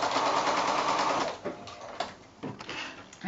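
A sewing machine stitches together quilt fabric squares for a house block, running steadily for about a second and a half and then in short bursts with pauses, close and clear with no talking.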